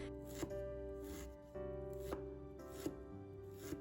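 A kitchen knife chops fresh ginger into fine strips on a cutting board, giving sharp, close strikes at a fairly regular pace, with a steady background tone.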